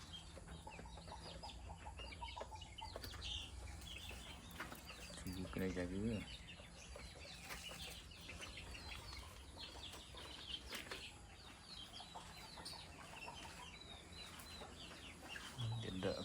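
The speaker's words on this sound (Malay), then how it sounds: "Ini anak ayam ayam kampung kasyuk yang baru berusia 8 hari Ini 100 ekor" Eight-day-old village chicks (ayam kampung), a brood of about a hundred, peep continuously in a farm setting alongside clucking fowl and wing flaps, with someone talking briefly over the steady chatter.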